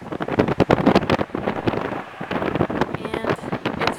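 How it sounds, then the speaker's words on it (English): Strong wind gusts across the Salisbury railway viaduct in Somerset, roaring and buffeting the microphone in rough, uneven pulses, close and loud throughout. "And it's very windy up here."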